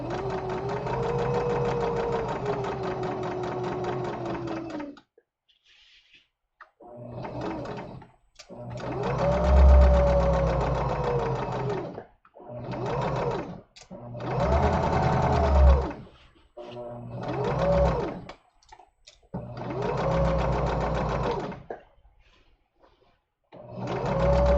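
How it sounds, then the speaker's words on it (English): An electric sewing machine runs a seam on a summer tunic in loud bursts of rapid stitching, stopping and restarting about six times with short silent pauses between runs, and no voices. "I'm not very talkative when I'm actually sewing a seam."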